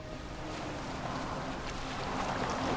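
A steady broadband wash of water and wind surrounds a moving boat in the Assassin's Creed Valhalla video game, a continuous rushing hiss with no voices.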